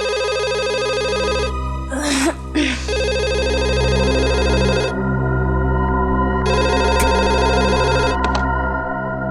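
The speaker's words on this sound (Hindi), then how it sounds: "इतनी रात को कौन फोन कर रहा है?" A telephone rings late at night in a TV crime drama, repeated long bursts, loud and close, with a brief muffled voice and clatter between the first rings.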